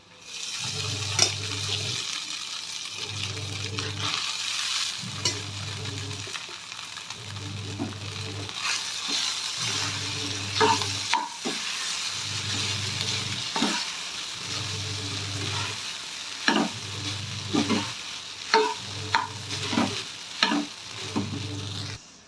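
Cooked rice is stirred into frying onion in a pan for onion rice, with a steady sizzle and repeated spoon scrapes and taps against the pan, over a pulsing low hum, with the taps growing sharper toward the end.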